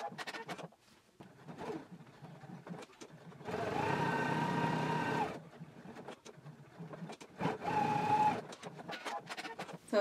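A domestic sewing machine bastes an opening closed and top stitches around an anorak pocket flap, running in two steady bursts with pauses and faint handling noise between them.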